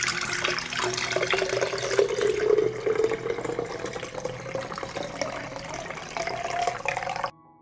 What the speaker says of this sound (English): before that, we will strain the water, which has cooled